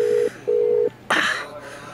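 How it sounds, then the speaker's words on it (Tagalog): A cellphone rings in two steady electronic tone bursts, followed by a short breathy rush of noise against a quiet background, with no talking. "Nibagting na iyang cellphone."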